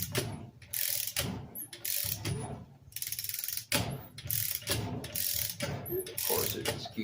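Ratchet wrench tightening the clutch bolt on a Robin 2PG golf cart engine, giving repeated bursts of close mechanical clicking that start and stop in several strokes over about seven seconds.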